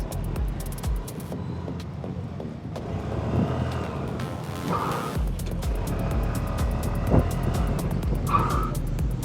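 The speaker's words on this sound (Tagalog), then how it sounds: "Subukan natin ang kanyang preno." A scooter engine runs throughout, with a couple of brief high tire squeals as it brakes, fairly loud and close.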